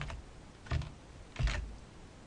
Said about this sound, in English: Or you can do the same thing with the keyboard with Control C and Control V.